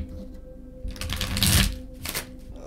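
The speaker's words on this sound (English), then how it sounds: "but sorry, we'll shuffle again." Tarot cards being shuffled by hand, a riffling burst of papery flutters that swells in the middle and trails off, close and moderately loud with no talking over it.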